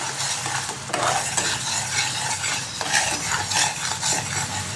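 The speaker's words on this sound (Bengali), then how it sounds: "আমি অল্প অল্প করে জল দিয়ে আমি নাড়তে থাকবো" Steady, close stirring and scraping in a pan holding an eggless plum cake mixture as small amounts of water go in, with a soft sizzle beneath the rhythmic spoon strokes and no talking.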